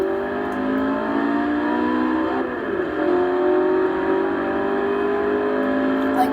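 Car engines in the Forza Horizon video game hum loudly and steadily, with a brief dip and pitch shift partway through like a gear change before the engine note climbs again.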